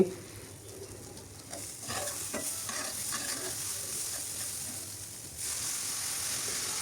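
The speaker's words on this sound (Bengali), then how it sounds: "খুব ভালোভাবে ভাজতে হবে ডালগুলো যত তেলের মধ্যে ভাজা হবে" Hissing sizzle of lentils frying in oil with stirring scrapes, close up; the sizzle swells louder partway through and holds steady.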